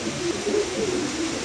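Lahori pigeons cooing in a steady, low, throaty run of soft rolling coos, fairly close and continuous with no talking.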